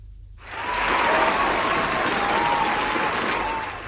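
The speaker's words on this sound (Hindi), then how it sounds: "और अब आप लोगों के लिए तालियां बजेंगी जिन्होंने बिल्कुल सही जवाब दे दिया है।" Studio applause for radio quiz winners rises quickly after a brief quiet start and holds as an even, full wash of clapping, with a faint tonal sound running beneath it.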